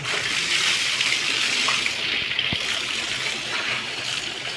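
Rainwater pours and splashes into buckets during a downpour, a steady close wash of falling water with one brief knock partway through.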